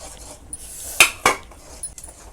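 A metal spoon mixes flour into melted jaggery in a pan, giving two bright clinks against the metal close together and a few softer taps, in a quiet kitchen.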